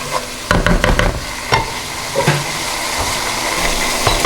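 Curry with peeled tomatoes simmering and being stirred in a pan: a steady sizzling bubble runs throughout, with a burst of quick utensil knocks and scrapes early on, close and alone without talk.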